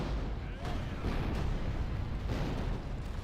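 Rumbling booms of cannon fire in a Total War strategy battle, several overlapping blasts rolling together over a dense low roar, with a voice briefly over them.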